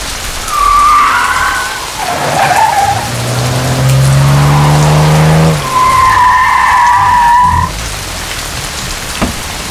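A car skids loudly to a sudden stop, a long tyre screech with a low rising engine tone in between, then another sharp squeal before the noise fades. No one speaks.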